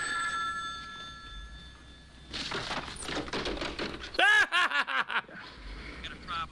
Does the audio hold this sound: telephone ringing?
yes